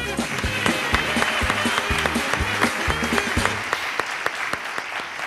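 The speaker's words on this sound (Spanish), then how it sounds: "Un aplauso para él" Applause from a studio audience at a live interview show, steady dense clapping throughout with rhythmic low thumps underneath, loud and close.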